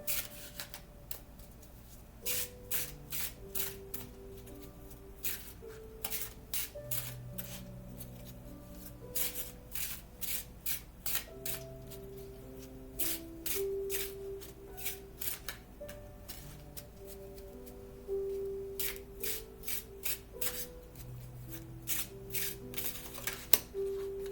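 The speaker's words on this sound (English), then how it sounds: "But I will shuffle for some more cards." Tarot cards shuffled over and over in a quiet room, quick rhythmic riffling bursts separated by brief pauses, close and clear with soft music underneath.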